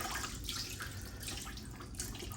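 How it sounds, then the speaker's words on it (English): Soaked corn husks lifted by the handful out of a bowl of water, a steady wet dripping and splashing that runs throughout, close and moderately loud, with no voices. "Time to get our husks out of the water."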